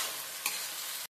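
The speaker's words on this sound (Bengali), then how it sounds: "আদা রসুনের পেস্ট দিয়ে আমি একসাথে পেঁয়াজের সাথে ভেজে নেব" Ginger-garlic paste and onions frying in a pan for Dak Bungalow chicken, a steady close sizzle with a brief scrape of stirring midway.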